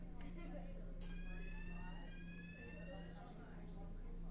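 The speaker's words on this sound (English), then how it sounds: "That is actually the disabled alarm that's gone off." The disabled passenger alarm on a StreetLight bus in the OMSI 2 simulator sounds as a faint, steady electronic tone over a low engine hum and background noise inside the bus.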